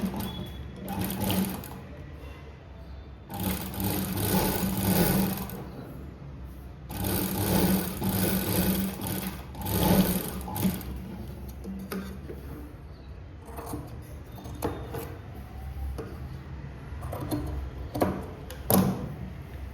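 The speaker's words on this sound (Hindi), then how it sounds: "फिर इसको स्टिच कर देंगे।" Sewing machine stitching blouse fabric, a steady mechanical whirring hum with rhythmic needle ticking in several runs of a few seconds, stopping and starting between bursts.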